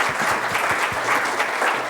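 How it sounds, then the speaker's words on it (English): Audience at a DCA Summit 2017 conference talk applauding the speaker, a full, steady round of many hands clapping in a hall, loud and continuous without talk. "I think Ryan deserves a round of applause for that one"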